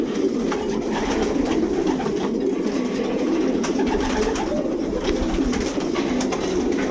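Racing pigeons coo steadily inside a loft, a dense continuous murmur of many birds close by.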